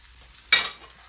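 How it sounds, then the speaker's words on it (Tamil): A sudden sharp sizzle of sliced onion and green chillies hitting hot oil for a Sri Lankan drumstick curry flares up, then quickly fades into a soft crackle against near silence. "1 நிமிடம் இந்த ஆயிலில் வெங்காயத்தை வதங்க விடுகிறேன்"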